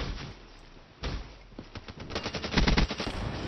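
Rapid gunfire in the video game Call of Duty Black Ops 3, with a heavy shot near the middle and dense bursts of machine-gun fire building toward the end, loud and close with no talk.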